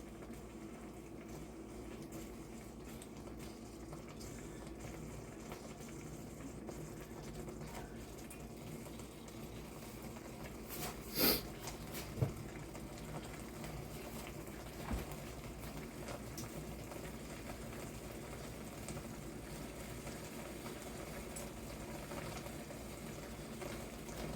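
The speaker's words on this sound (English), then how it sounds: "Hear that bubbling?" Pot of tortellini sauce bubbling on a home stove, a faint, steady low simmer with soft continuous gurgling, plus a couple of brief clinks near the middle and no talking.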